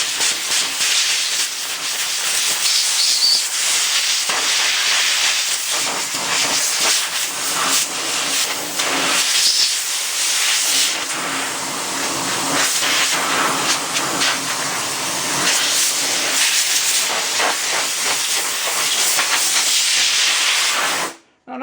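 Compressed air blasts dirt off a steering shaft in a steady, loud, close hiss that runs almost unbroken for about twenty seconds before cutting off abruptly.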